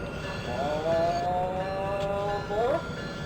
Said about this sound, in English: There's a Septa train coming in from Trenton at the same time.